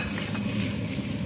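Bacon, turkey and chicken stirred in a hot pan, a continuous close sizzle with soft scraping of the stirring.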